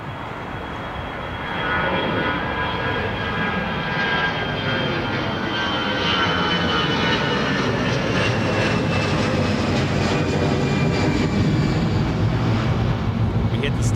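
Aircraft engines roar steadily at Dublin Airport, a loud, broad rumble that swells slightly and holds for the whole stretch, with an aircraft whine above it.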